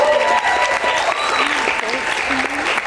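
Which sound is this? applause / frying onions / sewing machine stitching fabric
applause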